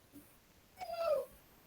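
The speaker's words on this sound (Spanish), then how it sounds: "Sí, tenemos el perrito. Está llorando." A small dog whimpers once, a brief high, wavering whine rising and falling near the middle of an otherwise quiet moment with faint background noise.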